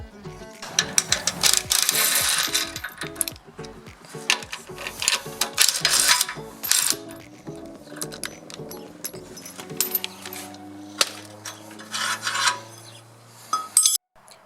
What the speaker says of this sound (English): I'm gonna work on taking the receiver off and undoing those bolts